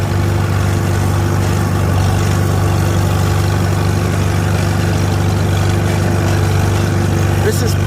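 An antique tractor engine runs steady and loud while brush hogging, a low constant drone holding through the whole stretch with little change in pitch.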